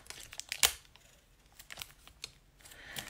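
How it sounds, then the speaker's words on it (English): Tape ripped off a roll while building a paper rocket, a sharp crackling tear near the start followed by fainter crinkles and a second brief rip near the end, close and without talk. "So I'm going to rip off one piece of tape."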